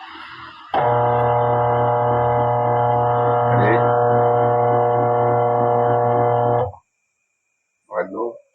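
Arno twin-tub washing machine motor running on 220 volts, a loud steady electric hum that starts abruptly, holds for about six seconds and cuts off, followed by a brief voice.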